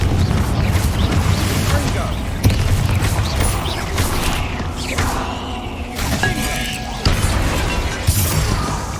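Confringo fire spell blasting in the Hogwarts Legacy video game inside a tomb, with loud crashing, shattering booms repeating over several seconds amid dense game effects and music.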